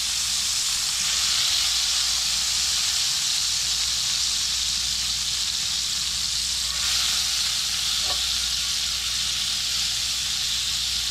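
Butter melting in a hot pan used for lemon rosemary chicken, a loud continuous hissing sizzle holding steady for several seconds.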